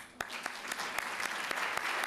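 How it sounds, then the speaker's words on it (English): Brief burst of audience applause at a teaching awards ceremony, scattered sharp claps over a steady wash of clapping, fairly quiet and distant. "I would like to give you a round of applause"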